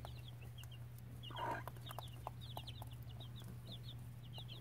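Baby chicks on a farm cheep in rapid, repeated high peeps throughout, with a few lower clucks from a hen nearby over a steady low hum.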